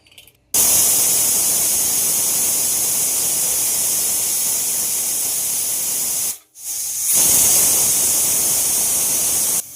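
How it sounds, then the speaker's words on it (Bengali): Pressure cooker with masoor dal on the stove letting off steam, a loud, steady rushing hiss that cuts out briefly and resumes, close by with no voices; no distinct whistle tone stands out. "কুকারের ঢাকনাটা আটকিয়ে দুখানা সিটে দিয়ে নেব।"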